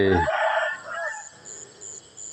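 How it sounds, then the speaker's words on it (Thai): A rooster crows once at dawn in Chae Hom, Lampang, Thailand, fairly close, the call trailing off into quiet background. "เสียงไก่ขันส่งเสียง"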